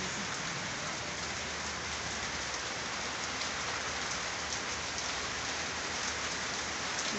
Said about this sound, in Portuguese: Tá chovendo. Maravilhosa chuva.